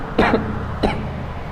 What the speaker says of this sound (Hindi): ये आ जाती है खांसी